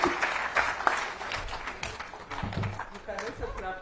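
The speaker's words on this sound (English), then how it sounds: "can also clap for me." Closing-session audience at a conference applauds, a busy crowd clapping that carries on steadily throughout, with voices chattering and calling out over the applause.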